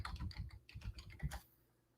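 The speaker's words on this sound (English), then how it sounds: "Let me type something else somewhere else." Fast bursts of keystrokes on a computer keyboard clatter up close for about a second and a half, then stop into near silence.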